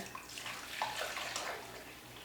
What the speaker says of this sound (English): So I need to put more water in here because what we're doing is we're soaking this down.